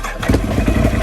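An ATV engine built with an 840 kit, cams and exhaust cranks and catches, settling into a quick, chugging idle rhythm, close and loud.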